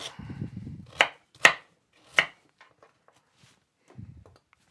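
Swede is cut with a knife on a chopping board at home for a slow-cooker stew, three sharp, distinct thuds close by, then faint taps and small knocks, with a brief low voice at the start and end.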